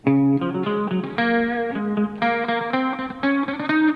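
A distorted electric guitar plays a melodic line of sustained, bending notes, loud and close, with a brief pause midway.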